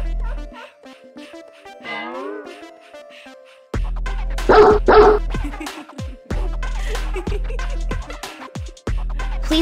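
Several dogs bark and yip in short bursts, loud and close, mixed with playful voices and music, with stretches of talk between the barks.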